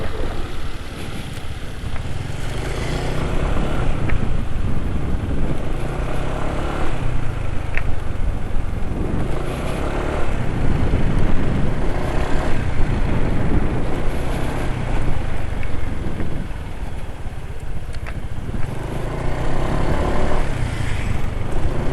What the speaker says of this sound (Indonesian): Suara mesin coba.